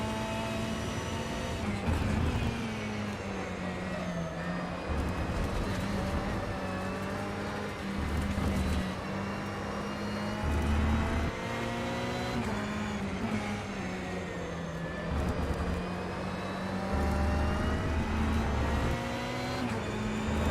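LMP2 prototype race cars in the rFactor 2 racing game, practicing for a three-hour endurance race at Spa, with a continuous engine drone whose pitch rises and falls through gear changes and corners.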